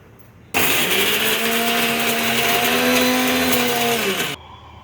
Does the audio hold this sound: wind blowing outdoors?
no